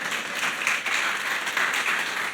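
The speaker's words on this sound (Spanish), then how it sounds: "denle un aplauso al Señor." Applause from a church congregation, a dense, even wash of many hands clapping at moderate distance, with no voices over it.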